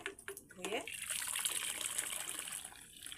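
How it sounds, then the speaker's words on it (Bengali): Fried vermicelli is rinsed in hot water, with splashing and trickling water close by, quiet overall. A brief voice-like sound comes near the start. "ভাজা সেমুই, তার জন্য আমি এই যে এরকম করে গরম পানিতে ভালো করে"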